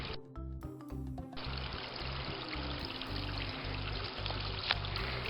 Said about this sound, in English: And over here is the waterfall.